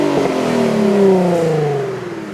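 A 2004 Infiniti FX35 engine pulls under acceleration, its tone climbing then easing as gears change, heard loud and close from inside the vehicle with steady road noise.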